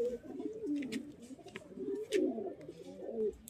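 Naphta pigeons in a pigeon loft coo in soft, repeated low rolling calls, close by and fairly quiet, with faint rustles and light clicks around them.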